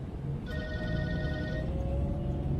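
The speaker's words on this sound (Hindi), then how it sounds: "किसका फोन है?" A phone rings in a movie scene, a single electronic ringtone chiming for about a second over a steady low background rumble.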